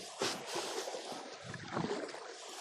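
Faint splashing and rushing water with wind noise from paddling a kayak, quiet and close, with no speech.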